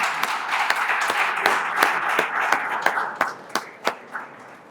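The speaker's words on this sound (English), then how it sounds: "Huge round of applause, ladies and gentlemen." Audience applause at an event honouring chamber directors, a sustained round of clapping with sharp individual claps standing out, fairly near, thinning out toward the end.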